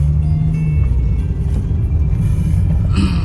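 A 2001 Honda City driven hard over a pothole-filled road, with a steady loud low rumble of engine and road noise and faint thumps from the suspension.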